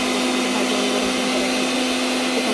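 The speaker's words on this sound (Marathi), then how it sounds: "नंतर मी मिक्सरमधून हिरव्या मिरच्या, कढीपत्ता, कोथिंबीर आणि लसूण टाकून मिक्सरमधून" A mixer grinder blending green chillies, curry leaves, coriander and garlic gives a loud, steady, close motor whir with a constant droning hum that runs without a break.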